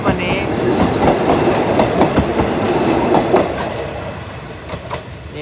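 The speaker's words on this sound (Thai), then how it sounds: "หัวพ้นโค้งไปแล้วนะครับหางยังอยู่ที่นี่เลยครับยาวมากๆนะครับวันนี้" Long passenger express train hauled by an Alsthom 4410 diesel locomotive rolling past at close range, loud rumble with rhythmic wheel clatter over rail joints, fading slightly toward the end.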